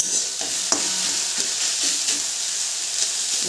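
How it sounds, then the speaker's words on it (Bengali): Water spinach sizzling as it fries in a pan, with a constant crackling hiss under several sharp spatula scrapes and taps spaced through the stir, close up. "শাকটা কেমন ভাজা ভাজা হয়ে গেছে"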